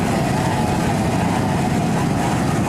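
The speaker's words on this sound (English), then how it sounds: "those 250 horsepower engines, Mercury outboards, and they sound and look good" Racing boat powered by 250 horsepower Mercury outboard engines: a dense, constant roar with a rough low rumble and broad noise, loud and unbroken with no voices.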